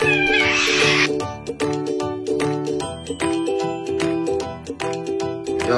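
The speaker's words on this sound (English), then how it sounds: "these cats are beefing at 7 a.m." Two cats square off early in the morning, yowling and caterwauling loudly in drawn-out, wavering howls, with a brief hissing burst at the start and repeated rising and falling cries throughout.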